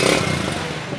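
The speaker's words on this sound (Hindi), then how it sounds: "लाइट सा पुश किया सेल्फ स्टार्ट का बटन," A 2019 Yamaha YB125Z motorcycle with a self-start button gives off a close, loud, raspy engine rumble that runs steadily through the brief moment.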